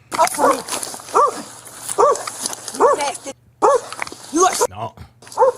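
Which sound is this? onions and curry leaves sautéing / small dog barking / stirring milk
small dog barking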